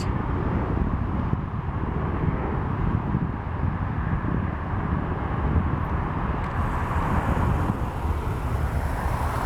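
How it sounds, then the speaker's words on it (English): An Alaska Airlines Boeing 737 MAX 8 departing Portland roars as a broad, steady jet rumble at moderate distance, with wind noise on the microphone throughout. "we have at a departure by Alaska 737 MAX 8"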